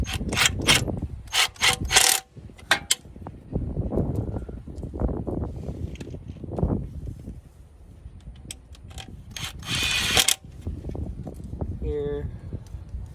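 Ratchet wrench tightening transmission pan bolts on a Nissan Altima CVT, bursts of rapid clicking near the start and again later, with someone talking between them.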